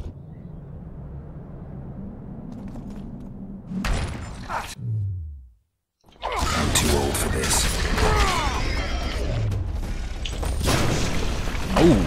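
Enemies exploding in the PC game The Witcher 2 give a short burst of booms and rumble, a moment of silence, then a loud, dense stretch of blasts and crashing debris.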